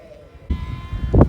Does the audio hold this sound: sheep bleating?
yes